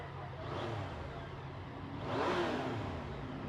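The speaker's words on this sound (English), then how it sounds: "I'm riding a Yamaha FJ-09" A black Yamaha FJ-09 motorcycle engine revs steadily, rising in pitch twice as the throttle opens, with a continuous mid-range drone and no talking.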